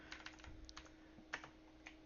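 Keystrokes on a computer keyboard while coding, a quick irregular run of soft clicks and taps with a few louder strokes, close and alone in a quiet room.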